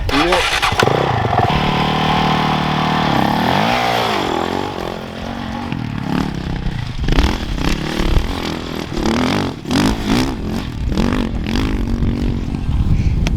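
A 450 dirt bike starts up and revs on a test lap, rising and falling engine tones with clattering and accelerating bursts, loud and close, with voices talking over it.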